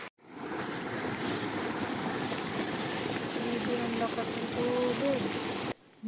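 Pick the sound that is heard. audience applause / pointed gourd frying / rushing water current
rushing water current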